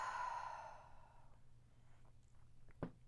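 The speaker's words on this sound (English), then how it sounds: "Exhale, let it go." A single long, audible exhale during a yoga breathing cycle, clear and close at first and trailing off into quiet, followed by a soft faint rustle.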